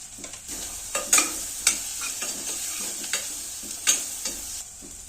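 Onion and tomato fry with turmeric and red chili powder in a pan, a steady close sizzle broken by several sharp scrapes and clinks of a spoon stirring the spices.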